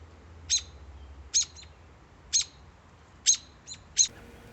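An American robin calls from a backyard nest where three four-day-old chicks sit: five short, sharp, high chirps spaced about a second apart, clear and fairly close over a quiet background.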